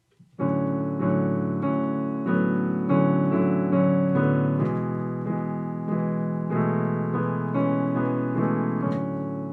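Sustained piano chords ring out in a steady pattern of longer and shorter hits, each chord blending into the next; full, clear and close. Piano arrangement of a song.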